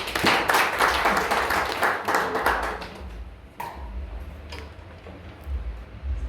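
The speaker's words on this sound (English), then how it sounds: "Guys, give him a round of applause." A crowd claps and applauds loudly for a few seconds, then the clapping thins to scattered claps and taps.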